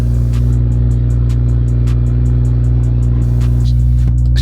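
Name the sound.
loud cold start of tuned BMW M340i engine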